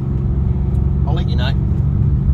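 Supercharged VE R8 car engine runs on a dyno with a loud, steady low rumble throughout, while someone speaks briefly over it.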